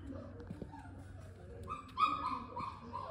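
Puppies on a Halloween walk give a few short yips and whimpery barks, fairly faint against outdoor background noise, with a louder bark burst near the end.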